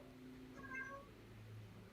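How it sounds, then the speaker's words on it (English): A house cat gives a single clear meow against a quiet indoor background, close and fairly soft, with a low hum underneath. "Somebody's cat."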